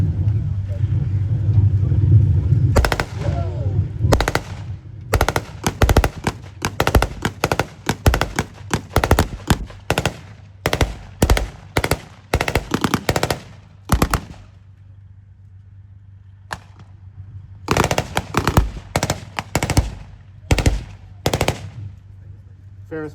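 Staccato bursts of blank machine-gun fire from a Ferret armoured car at a tank weekend display, loud and close, firing in rapid repeated volleys separated by pauses, with an engine idling underneath and a voice talking over the opening.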